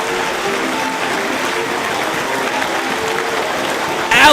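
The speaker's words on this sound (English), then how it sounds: "The crowd on their feet in Philadelphia." Wrestling crowd in Philadelphia on its feet, a steady wash of applause and cheering from a large audience, loud and continuous, with a sharper burst near the end.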